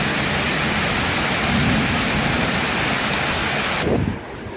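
Heavy rain falls outside in a windy storm, a loud continuous hiss of downpour that cuts off abruptly near the end, leaving a faint low thud.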